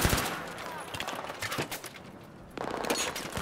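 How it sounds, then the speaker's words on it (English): Rapid automatic gunfire from the military shooter Battlefield 3, bursts of shots crackling in quick succession with a brief lull near the middle before firing resumes. "Dude, I am providing covering fire."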